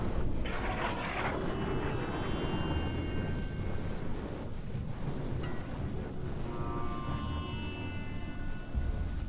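A heavy cartoon thunderstorm pours down as dense, constant rain noise with low rumbling underneath, filling the scene without any break.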